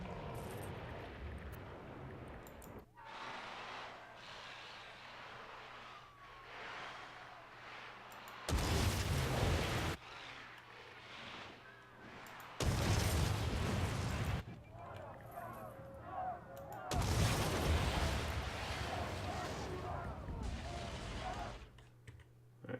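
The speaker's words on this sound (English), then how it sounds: "Let's destroy it. It's another abandoned building." An abandoned building is demolished in the city-building game SimCity 5, producing several loud bursts of crumbling, rumbling destruction between quieter stretches, with a voice talking in places.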